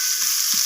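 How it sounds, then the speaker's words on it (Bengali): Chopped onions frying in oil until brown for chicken biryani cooked over a wood-fired stove, a brief, steady close sizzle with no talking. "পেঁয়াজটাকে আমি ব্রাউন রং করে একটু ভেজে নেব।"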